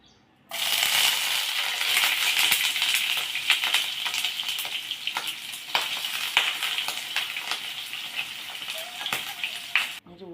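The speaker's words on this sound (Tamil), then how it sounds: "இப்போ இந்த நம்ம கிள்ளி வச்சுருக்கிற பிரண்டையை அதில் வதக்கி எடுத்துக்கலாம்." Pirandai (adamant creeper) sautéing in hot oil in a pan, a loud, steady crackling sizzle that starts abruptly and carries on with small pops and stirring scrapes until it cuts off near the end.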